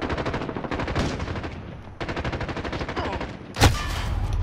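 Marksman rifle fire in a video game comes as rapid, loud repeated shots in two sustained bursts, then a single sharp report near the end.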